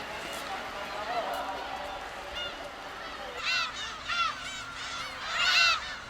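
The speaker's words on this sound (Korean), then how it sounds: "관광객들을 반겨주는 것은 독도 하늘을 가득 메운 괭이 갈매기 떼다" A flock of black-tailed gulls fills the sky over Dokdo island, their honking, mewing calls coming in repeated bursts at moderate distance, louder toward the end, with a person talking underneath.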